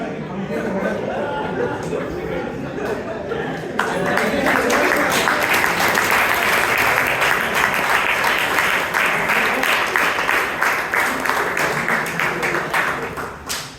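Sustained audience applause at a Bangalore Toastmasters club meeting fills the room, dense and steady and swelling louder partway through, with faint chatter underneath.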